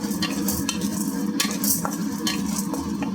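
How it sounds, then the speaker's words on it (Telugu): Lentils dry-roasting in a pan over medium flame for a moringa leaf spice powder, stirred with repeated close scrapes and rattles of a spoon against the pan over a soft sizzle. "ప్రతి ఒక్కటి అండి మీడియం ఫ్లేమ్లోనే వేయించుకోండి"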